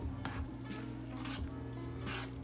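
Brownie batter mixed with Dr Pepper is stirred in a bowl, making a few soft wet scraping strokes with light utensil clinks, quiet and close, with no speech.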